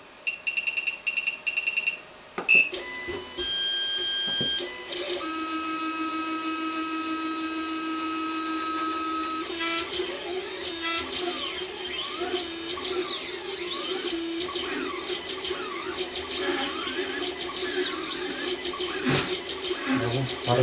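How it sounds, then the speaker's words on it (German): 3D printer stepper motors on a RAMPS 1.4 board trace triangles at varying speeds, giving a steady, close whirring whine with shifting pitch and a few clicks; a voice speaks at the start. "als erstes lasse ich den Drucker jetzt mal ein paar Dreiecke fahren in verschiedenen Geschwindigkeiten"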